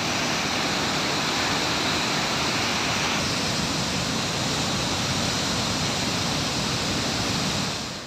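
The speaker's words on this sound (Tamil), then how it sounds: "இதனால் திருப்பரப்பு அருவியில் வெள்ளப்பெருக்கு ஏற்பட்டுள்ளது." Floodwater thunders over Thiruparappu waterfall, swollen by surplus water released from an upstream dam, as a dense, steady roar that fills the whole clip, close and loud with no voices.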